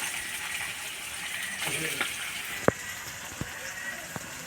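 Chicken fries in hot oil in a wok with onions and capsicum, a steady close sizzling hiss punctuated by a few sharp clicks of a utensil against the metal.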